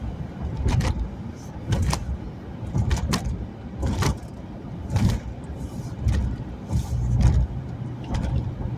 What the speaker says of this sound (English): I'm passing somebody on the road right now that's driving 40 in a 55.